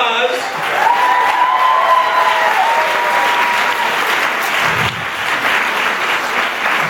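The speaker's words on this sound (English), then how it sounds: "Round of applause." Audience applause fills a room at a comedy and music show, steady dense clapping throughout with a voice calling out briefly over it.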